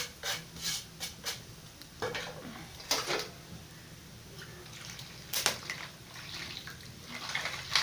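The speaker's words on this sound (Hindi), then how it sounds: "1 पाव सूजी का है, इसको पानी में भिगो देते हैं।" Semolina going into water in a metal pot in a village kitchen, heard as scattered clinks, scrapes and rubbing of utensils against the pot, fairly close and moderately loud, with bursts of water-like hiss and no talking.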